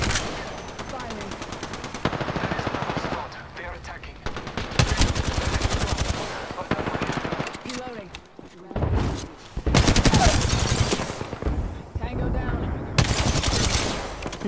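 Sustained gunfire in the Apex Legends video game, with repeated bursts of rapid automatic fire and single shots coming in waves and loud throughout, broken by short pauses and brief quieter gaps, with occasional voices beneath.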